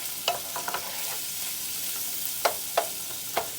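Onions sauté in a pan for a steak and gravy dinner, a steady soft sizzle broken by several sharp scraping stirs of a utensil, close and without talk.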